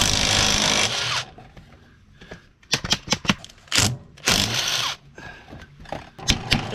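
A compact, torquey impact gun breaks loose light-duty bolts on an irrigation pivot gearbox, giving rapid, loud hammering rattles in several short bursts separated by brief pauses.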